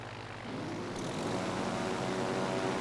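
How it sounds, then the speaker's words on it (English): Propeller drone of an enemy dive bomber passing over in World of Warships Legends, a steady engine hum that swells in after a quiet start and holds loud and close. "the enemy dive bomber is going over this way"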